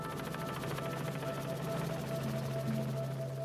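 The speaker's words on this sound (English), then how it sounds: "To demonstrate how that lens bends light waves to create a mirage, Ed brings in a helicopter" A helicopter drones steadily in the distance as it approaches, a fairly faint, continuous rotor hum with a faint flutter.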